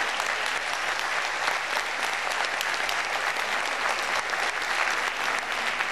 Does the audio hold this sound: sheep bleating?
no